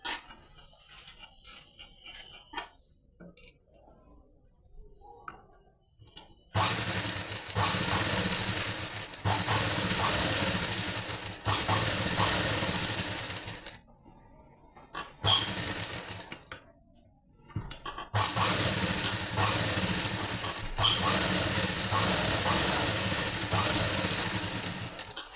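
A sewing machine runs close up while stitching a lining blouse, in long continuous bursts of rapid mechanical whirring separated by short pauses and quieter handling noises.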